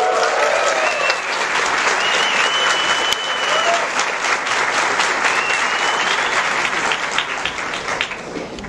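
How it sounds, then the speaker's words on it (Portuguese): Audience at a stand-up comedy show applauding a local comedian being welcomed on stage, a dense, loud sustained clapping from a crowd with scattered cheers, steady throughout before slowly easing. "show de stand-up comedy de Fábio Rabin, recebam com muitos, muitos, muitos aplausos este que é um comediante local aqui da casa"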